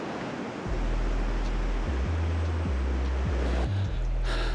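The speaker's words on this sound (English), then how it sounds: "hearing the waves and just having this wide open, vast sound" Ocean waves wash onto Sandcut Beach on Vancouver Island, a steady broad roar of surf with a low rumble underneath, loud and continuous.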